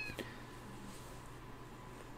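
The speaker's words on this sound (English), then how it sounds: "What are they doing to the cat?" A cat meows once, briefly and fairly faint, inside the video game Postal 2, with a steady low background hum running underneath the short call.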